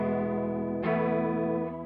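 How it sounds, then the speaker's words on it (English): A Marshall Theatre Haze 40 combo guitar amp plays a sustained chord through a deep, heavily modulated chorus effect, with a fresh strum about halfway through that rings out, shimmering and loud, with no talking. "I can get this really kind of crazy chorus sound."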